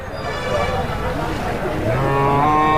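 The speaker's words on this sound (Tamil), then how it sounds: "இங்கேயும் பாருங்கள் நிறைய பசுமாடுங்க கண்ணுக்குட்டியோடு" Cows low repeatedly at a busy cattle market in Tamil Nadu, drawn-out moos rising over crowd noise and voices talking nearby.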